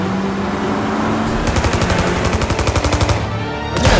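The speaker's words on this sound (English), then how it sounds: "Tommy guns, baby" Rapid burst of Tommy gun fire in Mafia Definitive Edition, a loud, close run of evenly spaced shots lasting about two seconds over steady game ambience, followed by a brief heavier blast.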